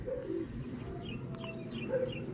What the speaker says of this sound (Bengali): দেখুন বন্ধুরা পায়রাটা